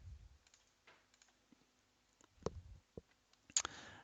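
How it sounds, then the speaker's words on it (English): Computer mouse clicks, a few sharp isolated taps spread across a quiet room with faint background hum. "So just right click and open with Notepad."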